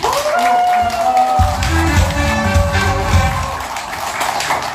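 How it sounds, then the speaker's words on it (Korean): Applause and cheering from a crowd of former classmates at an elementary school alumni reunion in a Seoul buffet hall, loud and sustained with dense clapping over several seconds, with voices and background music mixed in. "힘찬 박수 부탁드립니다"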